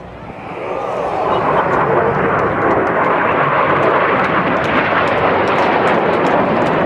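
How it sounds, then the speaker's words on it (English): Red Arrows jets make a formation pass at an RAF Duxford air display, a loud roaring engine rush building quickly and holding steady as an announcer speaks over it. "Once again, maximum performance of the aeroplane round here to make the third pass"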